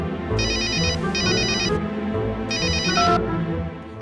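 A mobile phone ringtone from a cartoon plays loud and close, as bright repeating electronic chime bursts in three phrases over a background music bed.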